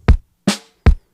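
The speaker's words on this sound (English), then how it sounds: "a snare from Ableton" Three short, loud snare drum hits from an Ableton sample, played alone with no other sounds, the middle hit brighter with a longer hissy tail.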